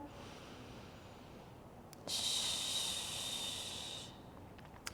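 A long, hissing breath during a Pilates core hold, close and audible for about two seconds after a quieter inhale.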